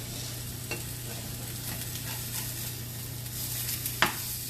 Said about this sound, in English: I'm stirring greens and just remembering that we need to turn the fish over.